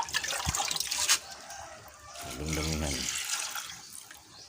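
Water poured from a container into a feeding vessel for a sow, a bubbling gurgle of a few seconds with splashing, heard after someone speaks briefly.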